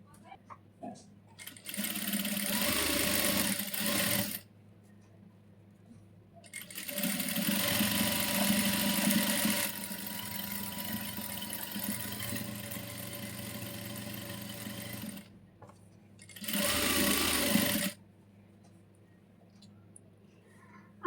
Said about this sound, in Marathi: तर अजून एकदा इथे एकदा शिलाई मारूया.